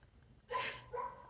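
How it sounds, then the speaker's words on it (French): A dog gives a single short bark followed by a softer second huff, close by and loud against a quiet room during a live church broadcast. "le chien approuve"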